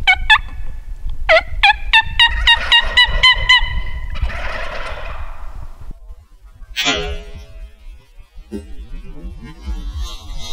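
Several wild turkeys gobble in rapid rattling bursts, one after another, fairly close, followed by scattered calls and rustling, in Michigan.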